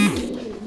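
A domestic pigeon at a pigeon farm gives a brief low coo, a soft, close, rounded call with a slight downward glide.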